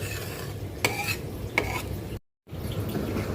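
A metal strainer pushing risen foam back into boiling mashkalai lentil dal cooked with fish head, on a low flame. Soft bubbling and stirring are broken by two sharp metallic clinks and a brief silent gap.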